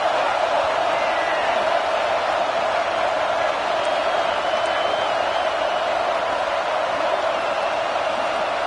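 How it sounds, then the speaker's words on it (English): Football stadium crowd at an FSU versus Michigan game: a broad, unbroken roar of thousands of voices holds steady and loud from start to finish, with no breaks or distinct individual shouts. "The roar of the crowd trying to fuel this defense to keep them pinned in their own end."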